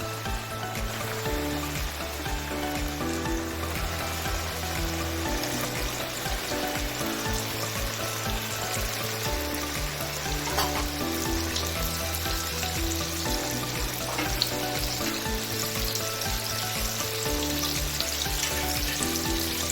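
Double-coated chicken pieces deep-fry in hot oil for homemade broasted chicken, giving a dense, even, continuous sizzle that stays close and steady throughout, with no talking.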